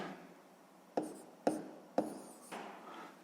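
The number 48 written by hand during a sixth-grade maths exercise: three or four quick, quiet scratchy pen strokes with short pauses between them, close by and alone.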